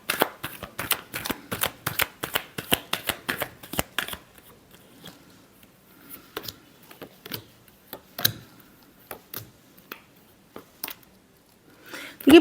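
Tarot cards are shuffled in quick, crisp riffles, a steady run of papery flicks up close that gives way to sparser, softer taps and slides of the deck.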